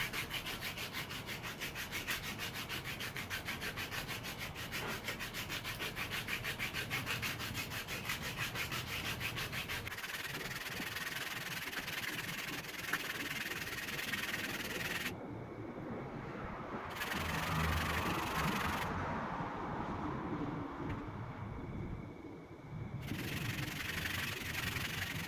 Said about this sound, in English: When sanding, you have to go from lower number, more coarse sandpaper to a much higher number, much more fine sandpaper